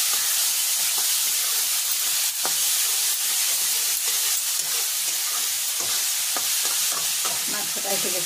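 Onion, garlic and ginger sizzle in hot mustard oil while being stirred for a catla fish curry, giving a loud, steady frying hiss with scattered crackles and spatters throughout, with no voices.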